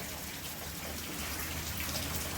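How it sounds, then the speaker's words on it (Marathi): Rain falling steadily on a farm, a dense even hiss of drops with no pauses and no voices, moderately close. "आज दुसऱ्यांदा आज पाऊस पडतो"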